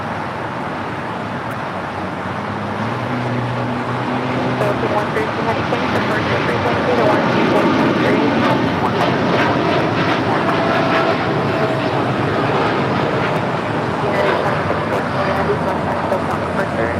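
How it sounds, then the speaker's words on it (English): A United Airlines Boeing 787-10 Dreamliner departs from the south side at LAX, its jet engine roar swelling from a low rumble into a loud, sustained broadband rush that stays steady to the end. "Next heavy departure here on the south side. United Airlines flight 2614 heading to Newark in a 787-10 Dreamliner."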